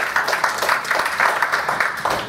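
An audience applauds for Mr. Chestnut at a talk on green jobs and community revitalization, steady scattered clapping from a room of people that stays even throughout.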